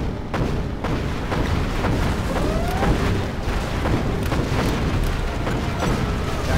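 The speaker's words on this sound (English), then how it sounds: "Hey, check out our new tow missile." TOW missile strikes in Command & Conquer Generals, heavy booms and blasts layered over a dense, continuous roar of battlefield noise, loud and steady throughout.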